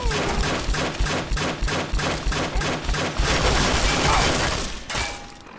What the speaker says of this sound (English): Their guns are actually hitting me pretty hard, even through my power armor.